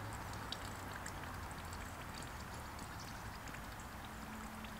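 Water drips and trickles off a fish weighing mat during a carp fishing session at a gravel pit, a steady soft pattering close by with no talk.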